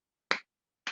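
Two sharp, isolated hand claps about half a second apart ring out in a quiet debate room, marking the end of a speaking point.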